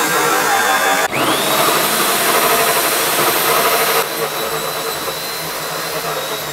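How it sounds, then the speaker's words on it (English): A power drill bores a hole through a floor joist while fitting a quadrant shower tray waste pipe, giving a loud, steady whine that shifts pitch as the bit bites, then settles into an even drone. "So we've got our first hole here. Let's get drilling that, guys."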